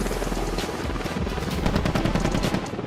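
AH-64E Apache combat helicopter of the Indian Army flying, a loud continuous rotor thump with rapid chopping pulses over a steady low engine roar, close and sustained throughout.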